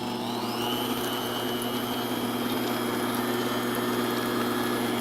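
An electric hand mixer beats a stick of butter at medium speed, a loud, steady motor whine with a buzzing, even drone that holds unchanged throughout, close by and alone.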